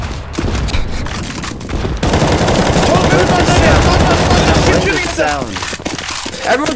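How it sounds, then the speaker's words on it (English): Sustained rapid automatic gunfire from many weapons in a CS:GO zombie escape match, dense overlapping bursts that swell into a continuous loud fusillade, with players shouting over the shooting. "Everyone keep shooting!"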